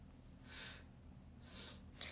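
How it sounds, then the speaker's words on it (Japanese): Loud yawn-like exhalations from a woman during a casual livestream, two broad breathy swells followed by a short sharp breathy burst, close to the mic over a faint low hum. "あくびの声でかいな。"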